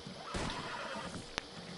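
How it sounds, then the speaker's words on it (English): A horse whinnies in a PS4 video game, a broad sustained call over steady background game sound, ending with a short sharp click. "Is that my horse or is that somebody else's?"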